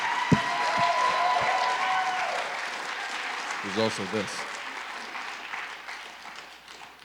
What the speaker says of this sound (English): Let's get another round of applause for all the fantastic films